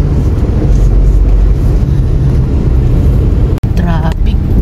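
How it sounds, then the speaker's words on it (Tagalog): Heard from inside a moving car near Pulong Bunga, road traffic makes a loud, steady low rumble of engines and tyres. A voice briefly speaks near the end. "Traffic din eh."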